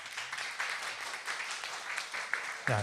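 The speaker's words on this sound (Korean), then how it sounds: "박수 한번 쳐주세요." A church congregation at a Friday evening worship service gives a faint, distant round of applause, with soft, steady clapping that has a few sharper claps near the end.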